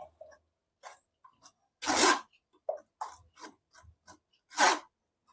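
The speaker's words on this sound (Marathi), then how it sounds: "आता आपल्याला या चाळणीच्या साहाय्याने यामध्ये संपूर्ण मिश्रण गाळून घ्यायचं आहे" Homemade tomato paste for ketchup is pressed by hand through a sieve, making soft, scattered rubbing and squishing scrapes. The sounds come in short, irregular bursts with quiet gaps, and a couple of louder strokes stand out.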